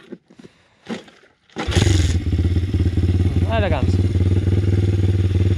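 A new PitGang 140XD pit bike engine is started for the first time. After a few short sounds and a voice, it catches abruptly into a loud, close, buzzing idle, with one quick rev partway through.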